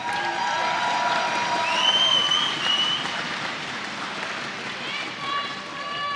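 Spectators at an indoor archery tournament finals clap and cheer in a broad wash of applause that gradually eases, with a voice and whistles rising above the crowd.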